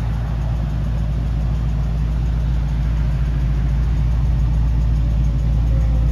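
A 1968 Plymouth Barracuda convertible's engine runs steadily, a loud, continuous low rumble close by with no noticeable revving and no talk over it.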